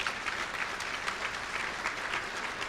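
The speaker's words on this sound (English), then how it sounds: "You can clap for that." An awards ceremony audience applauds steadily, a dense crackle of many hands clapping at an even level throughout, with no voices rising above it.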